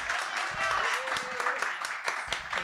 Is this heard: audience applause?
yes